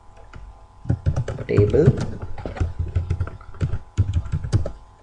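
Keys clatter at a quick, uneven pace on a computer keyboard while an SQL command is typed, the clicks close and clear as someone talks over them.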